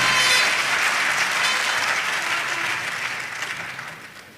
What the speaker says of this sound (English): Please, another round of applause for the Vice Chancellor.